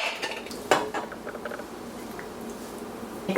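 Drained pasta is stirred with tomato sauce in a pot, giving soft scraping and wet clinking of a utensil against the pot, with a couple of sharper knocks, close and moderately quiet, with no talking.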